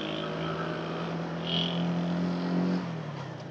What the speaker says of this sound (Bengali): আর আমার ক্লাইম্বিং শুরু হয়ে গেল প্রথমবার এই মোটর সাইকেল দিয়ে।